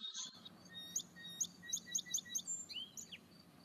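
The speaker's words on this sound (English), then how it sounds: "And another example here is a song sparrow at normal speed." A song sparrow sings at normal speed, fairly faint and alone: a few introductory notes, then a quick run of five or six bright repeated chips and a closing buzzy trill.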